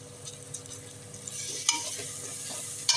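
Ground spice paste of cloves, fennel and cardamom sautéing in a pan for chicken biryani. A soft, steady sizzle runs under occasional scraping stir strokes, with a couple of sharper clinks near the end.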